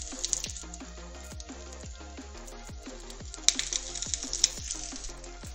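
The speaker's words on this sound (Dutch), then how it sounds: "Ben je de krieltjes aan het koken in de olie?" Baby potatoes and garlic frying in plenty of oil, a soft continuous sizzle beneath steady rhythmic music, with a few sharper crackles and pops near the end.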